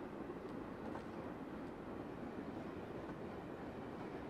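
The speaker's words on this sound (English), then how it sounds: "Train's still going." A BNSF ES44DC freight train runs steadily in Train Simulator 2016, a low continuous rumble and hiss with faint clicks, moderately quiet and unbroken, no voices.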